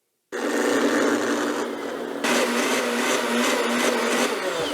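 A Blendtec blender runs a cleaning cycle, its motor kicking in abruptly with a loud, steady whirring roar. The roar gets louder and harsher partway through and keeps going without a break.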